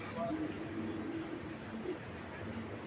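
Pigeons coo softly and repeatedly in a pen, low murmuring calls running steadily under a steady background hum, with no voices.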